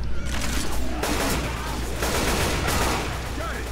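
Steady, dense gunfire from a zombie-shooting video game, a continuous rattle of shots filling the whole stretch with a faint voice mixed in.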